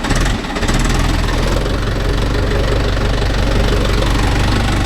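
A Mahindra Yuvo Tech Plus 585 4WD tractor engine runs steadily on farmland, a loud, close, continuous diesel drone with a low knocking rhythm and no speech over it.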